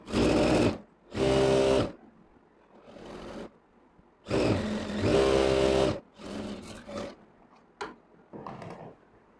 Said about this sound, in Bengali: আরেক ডবল সেলাই দিয়ে দিবেন।